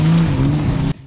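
A powerful car engine at a motorists' day event in Sevastopol gives a short, loud, steady droning hum for under a second before cutting out abruptly.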